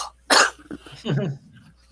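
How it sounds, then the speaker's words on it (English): A single harsh cough bursts out close by, followed by a short throaty rasp and a fading breath. "Got a cough."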